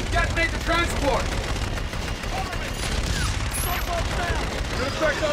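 Sustained heavy gunfire from an air-support gun run in Call of Duty Infinite Warfare, a dense continuous roar of rapid shots with radio voices talking over it throughout.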